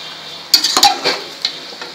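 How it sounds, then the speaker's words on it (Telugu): Ginger and garlic tossed and stirred in a hot pan for country chicken curry, a few quick scraping stirs with a spoon over a steady close sizzle. "ఫస్ట్ అల్లం వెల్లుల్లి వేసి ఒకసారి కలయి పెడతాం"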